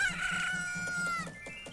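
A bird in the video game Majora's Mask crows loudly like a rooster, a drawn-out cock-a-doodle-doo followed by a few clucking notes, close and alone.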